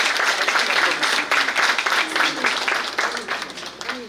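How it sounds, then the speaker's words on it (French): Audience applause at the Nuit de la Fraternité 2022 gala held by the Ivorian embassy in the USA: sustained, fairly loud clapping from a crowd, slowly thinning toward the end. "On applaudit ça."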